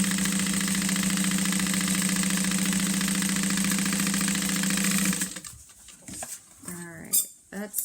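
A sewing machine stitches a quarter-inch seam with a steady, close mechanical whir and rapid needle chatter for about five seconds, then stops, followed by faint handling noises.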